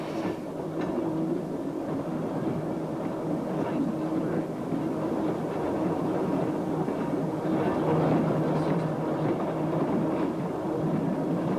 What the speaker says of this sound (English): Passing Banjo Groyne, the train enters the elevated section above the beach.